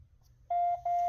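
A phone gives two clear electronic beeps in quick succession while an alarm is being set, close and alone over faint low background hum.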